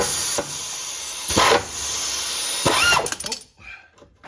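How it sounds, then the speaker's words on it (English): Compressed air from an air compressor hisses loudly and steadily, broken by a few sharper bursts, while working on a Chevy K1500 6.5 diesel with vise grips. The hiss cuts off near the end. "Got the air compressor all aired up."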